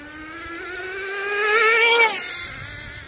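A Traxxas Jato 3.3 nitro RC car screams past close by. Its high, buzzing two-stroke whine climbs in pitch and loudness as it approaches, then drops sharply in a Doppler sweep as it passes and fades off.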